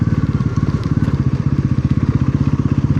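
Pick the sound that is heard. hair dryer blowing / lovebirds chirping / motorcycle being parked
motorcycle being parked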